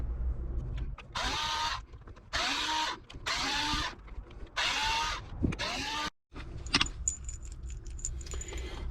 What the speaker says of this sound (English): So now what we need to do is unscrew these 5 bolts and take this whole assembly out.